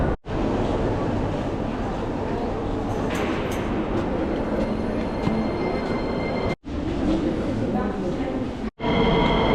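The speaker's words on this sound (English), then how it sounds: "So I'm now jumping on the metro." Riding a Sofia metro train in Bulgaria: a loud, constant rumble and roar from the carriage, with voices faintly audible in the background and two brief drops in the noise.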